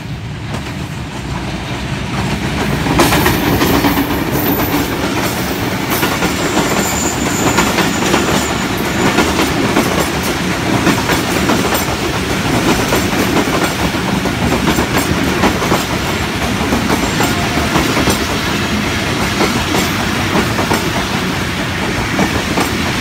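A Pakistan Railways express train, led by locomotive HBU 8083, passes through a station at Chak, with loud, steady rolling clatter of wagons, wheel squeal and rhythmic clickety-clack lasting throughout.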